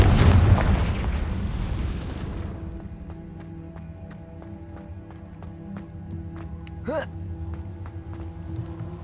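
A Confringo spell explosion in Hogwarts Legacy: a loud booming burst at the start that quickly decays, followed by quieter ambient game sounds with faint ticks and a brief rising whoosh.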